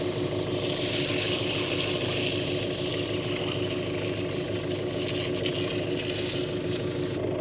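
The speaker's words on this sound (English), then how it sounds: "I'm gonna try to wash some of this crud out of the tank" Water washing crud out of the radiator tank of a Lima 604 shovel, a steady broadband wash that runs without a break over a constant low engine drone, slightly louder near the end.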